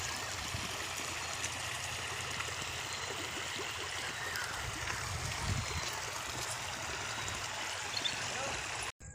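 A river flows steadily near a hilltop shrine, a continuous broadband rush and trickle of water holding even loudness throughout before cutting off abruptly at the end.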